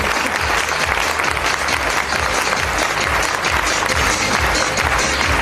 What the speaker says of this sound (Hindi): एक बार इन महागुरुओं के लिए प्लीज जोरदार तालियां